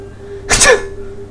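One sharp human sneeze bursts out suddenly and close, then fades into a faint, steady background hum.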